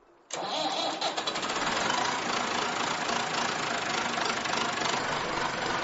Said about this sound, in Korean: 트랙터를 몰고 집 뒤 밭을 갈러 나가는 겁니다